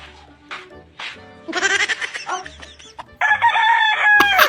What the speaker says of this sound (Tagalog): Pala tilaok pala yung manok niya.